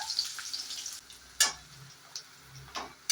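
Onion roasts in oil for a spicy Kolhapuri tambda rassa, giving a soft sizzle broken by a few short scraping strokes spaced about a second apart.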